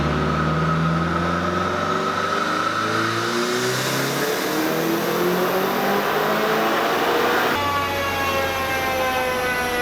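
A turbocharged Mazda Miata engine revs hard on a dyno, a loud continuous roar that climbs in pitch and then drops sharply at the end of the pull, heard up close without talk.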